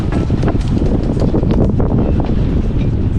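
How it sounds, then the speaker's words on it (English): Strong wind roars steadily across the microphone aboard a small sailing yacht crewed by beginners, a dense, loud, unbroken rush with no talk. "that wind is torturous"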